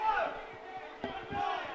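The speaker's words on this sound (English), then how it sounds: "Fans disagree with that call." A rowdy college baseball crowd groans and shouts in disagreement after a called strike, a brief swell of many voices from a distance, with an announcer's voice heard nearby.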